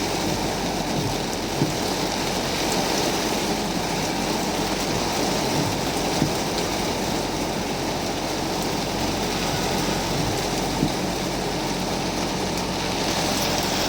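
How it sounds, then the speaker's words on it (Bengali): Heavy rain pours down continuously, a dense, even hiss with no voices over it. "দেখুন অনেক বৃষ্টি, অনেক"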